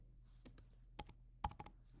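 Keys clack on a computer keyboard while typing in Egyptian hieroglyphs, a few sharp close clicks in an irregular rhythm over a quiet background, with small bursts of quick taps.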